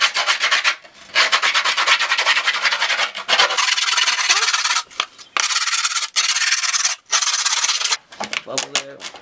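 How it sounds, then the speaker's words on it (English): A screwdriver rubbed hard along the edge of a skateboard deck over grip tape makes loud, close, gritty scraping strokes in long runs broken by brief pauses, with a low murmur near the end. "you're going to run the screwdriver around the whole outline of the board"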